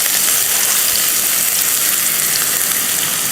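Two large finely chopped onions hit hot oil with crackled cumin seeds, giving a loud, steady, dense sizzle that holds unbroken throughout with no voices.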